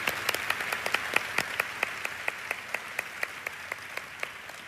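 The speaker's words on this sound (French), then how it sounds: "Nous allons applaudir nos internautes qui regardent par streaming." Applause from a church congregation at a ministry service, steady scattered claps with sharp individual hand strikes standing out over a soft wash, moderately distant and consistent throughout.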